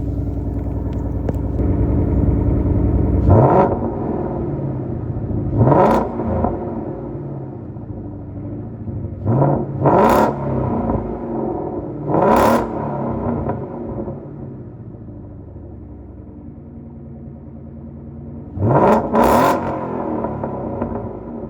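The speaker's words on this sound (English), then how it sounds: "I'm gonna set you down to give it some revs." A 2015 Ford Mustang GT engine idles with a low rumble, then revs sharply several times in separate bursts, loud and close, with pauses of idling between.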